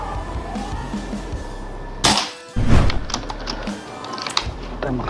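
One shot from a PCP Predator Galaxy Tactical air rifle with a 15 mm filament magazine, aimed at a target: a loud sharp crack, a brief dip, then a second dull impact-like burst, followed by quieter ticks.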